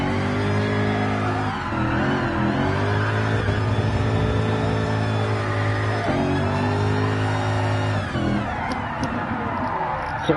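A car sliding sideways through tight corners in Gran Turismo Sport, a constant loud engine hum with intermittent tire squeal and shifting revs over about ten seconds, no voices.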